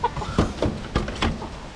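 Short clucks from a fighting rooster, a golden gamecock kept for cockfighting, come close and fairly loud as several separate calls in under two seconds, with no one talking.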